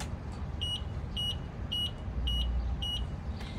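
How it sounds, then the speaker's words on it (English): Five short electronic beeps from a Pride Go Go Sport mobility scooter left in neutral sound at an even pace against a low background rumble, fairly faint and evenly spaced. "If you have the scooter in neutral, the scooter will beep 5 times."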